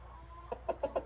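Chickens in a farm coop give a few quick, quiet clucks in a short rhythmic series against a faint low background hum.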